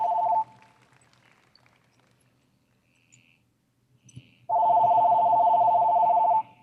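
A mobile phone rings during an author's talk to an audience: a short electronic ring tone, a pause of a few seconds with faint background noise, then a second longer ring, fairly loud and close.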